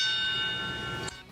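A single bell struck once at the International Space Station change of command ceremony rings out with a bright sustained tone that slowly fades, then is cut off abruptly near the end.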